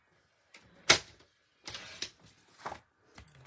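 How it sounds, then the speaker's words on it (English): Cardstock is cut in half for a card front, heard as a few separate crisp snips and slicing strokes with quiet pauses between them, close and fairly faint. "I want to cut this in half"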